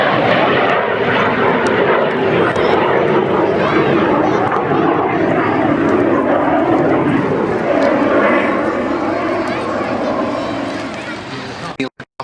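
Jet Provost aircraft with a newly installed engine roars loudly and continuously at the East Fortune airshow, a broad, steady jet rush that fades near the end, with people talking underneath.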